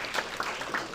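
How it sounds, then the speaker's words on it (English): A crowd applauds at a tech startup demo night, a short burst of brisk, dense clapping that sounds fairly close and steady, with a few sharper claps standing out and no talk over it. "Round of applause for camera roll."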